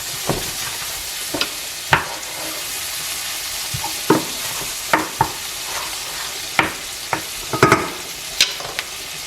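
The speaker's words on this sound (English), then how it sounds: "And then our olives. And we'll just saute those slightly." Olives sauté with capers in a pan for puttanesca, giving a steady close sizzle broken by intermittent scraping and knocking as a utensil stirs them.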